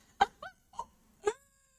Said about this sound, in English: Mr. Kitty. You've got a lot to say.